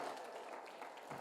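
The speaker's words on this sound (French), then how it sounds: "Donnez une main d'applaudissement au Seigneur" Church congregation applauding for the Lord during a French-language sermon, a faint, steady wash of many hands clapping at a distance throughout.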